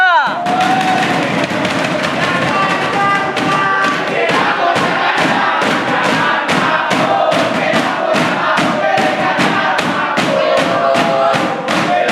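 Supporters of candidate pair number 3 at a debate event roar and cheer as a loud crowd, with sharp rhythmic clapping or thumping beats running through the whole stretch.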